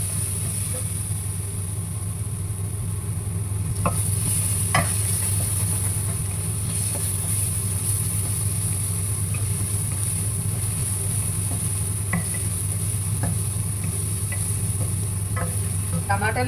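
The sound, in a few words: chicken frying with onions and ginger garlic paste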